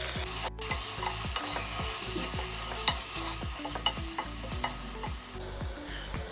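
Chopped tomatoes and ginger garlic paste fry in a pan while a spoon stirs them, giving a constant sizzle with regular scraping strokes close by. No voices are heard.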